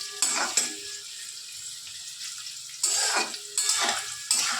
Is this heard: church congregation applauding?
no